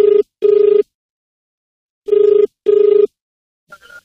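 An outgoing phone call to someone named Satya rings in clear, loud pairs of electronic ring bursts separated by a pause, followed by a faint click as the line connects.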